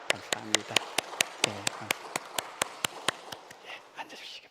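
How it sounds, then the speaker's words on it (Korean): A congregation at a Korean church's Sunday service claps in a steady, evenly spaced unison rhythm of sharp beats, with a voice speaking over the first claps before the clapping loosens and fades. "자, 우리 박수 치겠습니다."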